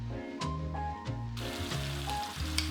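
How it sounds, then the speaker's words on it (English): Fermented kimchi fries in leftover pork belly fat, giving a steady close sizzle and crackle with a few brief liquid pops, under a faint musical background and no talking. "Fry it in the leftover pork belly fat."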